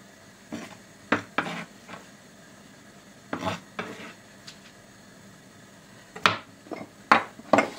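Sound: chopping washed sorrel and onions

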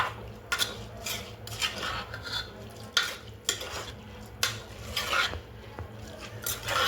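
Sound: mixing prawn biryani masala in a pressure cooker

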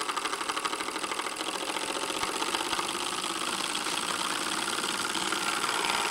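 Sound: vertical solenoid engine running at 18 volts

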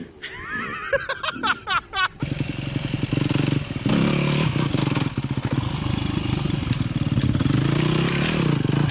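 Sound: freestyle motocross motorcycle riding in first gear

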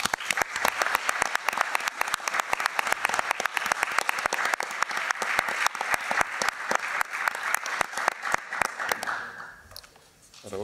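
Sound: audience applause

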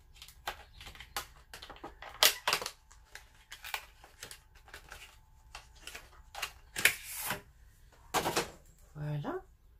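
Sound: opening packaging of a Huda beauty product

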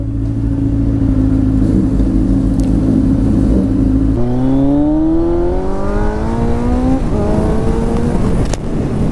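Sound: Kawasaki Z900 motorcycle engine revving during a wheelie

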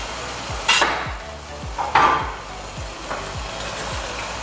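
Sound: stirring garlic into shrimp in creamy sauce in a frying pan

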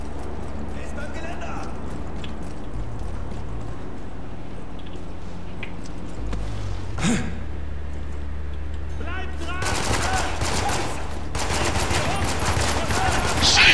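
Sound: gunfire in a video game

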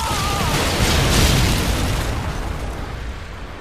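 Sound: stun grenade explosion in the video game Modern Warfare 2

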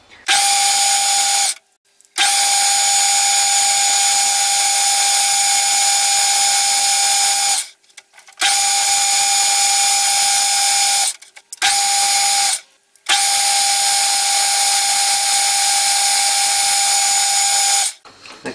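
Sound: drilling metal with tapping size drill

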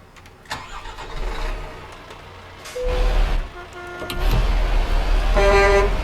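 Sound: truck air horn in video game

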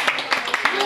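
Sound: audience applause

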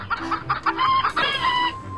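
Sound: chickens clucking

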